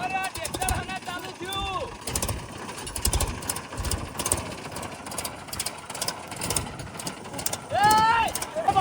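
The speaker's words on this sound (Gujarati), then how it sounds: "ચાલુ થયું ટ્રેક્ટર ચાલુ" A tractor engine chugs and idles with a knocking rhythm while people talk over it close by.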